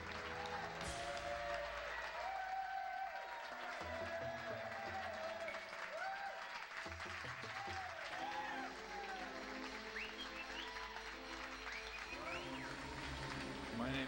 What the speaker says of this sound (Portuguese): Por favor, vamos aplaudir o comediante simplesmente Fred.